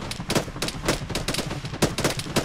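Rapid bursts of Arma 3 rifle and machine-gun fire crackle in an irregular rhythm across the whole stretch, loud and close with sharp repeated cracks and no voices over them.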